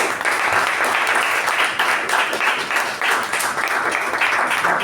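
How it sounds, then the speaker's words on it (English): An audience at a Toastmasters meeting applauds a member for an award, steady dense clapping filling the room at even loudness throughout. "I think he deserves a special round of applause for that."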